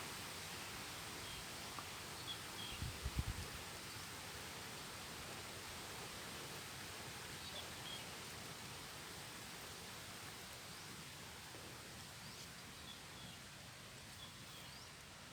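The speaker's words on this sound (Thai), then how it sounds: "นี่อากาศดีครับลมพัดเย็นสบาย เสียงลมนะครับ" Wind blows through a forest as a soft, even rushing hiss that continues for the whole stretch, with one brief low knock near the start.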